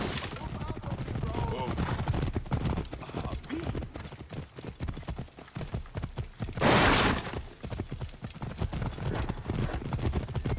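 Galloping horse hooves in Assassin's Creed Origins pound rapidly and loudly through a chaotic battle scene, mixed with clashing combat noise, a sharp burst midway and shouting voices.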